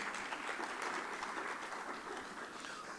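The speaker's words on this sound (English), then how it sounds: "Please, one more time, a round of applause." Applause from an audience at an African energy technology conference, a steady, broad wash of many hands clapping that holds evenly throughout, fairly distant and moderately quiet, with no voices on top.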